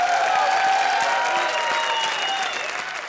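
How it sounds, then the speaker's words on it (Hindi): Loud, dense applause from a comedy show studio audience fills the stretch, with cheering tones riding over it and a gradual tapering toward the end. "एक बार आर्ची और अरबाज के लिए जोरदार तालियां"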